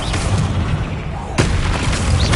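Bombarda explosion spell cast in the Hogwarts Legacy video game, heard as a sharp, loud blast partway through, set against a dense, rumbling background of combat noise.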